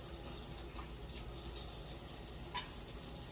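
Tap water runs quietly while a kitchen utensil is rinsed during potato porridge preparation, a faint steady trickle with a couple of brief splashes, no talk.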